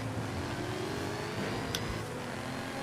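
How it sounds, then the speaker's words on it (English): A supercharged Camaro in Forza Horizon 5 drives under steady engine drone with a thin high-pitched supercharger whine on top, and a brief sharp click partway through. "listen to that supercharger whine"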